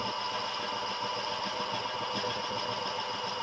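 A Champion drill press runs steadily at about 200 RPM with a brazed carbide tool fitted, making a continuous, even mechanical hum with a faint whine that holds level throughout.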